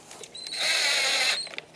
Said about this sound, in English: I'm going to put in all the screws now.